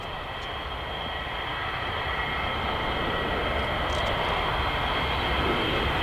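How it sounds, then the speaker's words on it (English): A Boeing 787-9 Dreamliner in Japanese livery performing a flying demonstration at Farnborough Airshow, a broad, steady jet roar that grows gradually louder with no voices. "Japanese livery aeroplane to perform a flying demonstration at Farnborough Airshow."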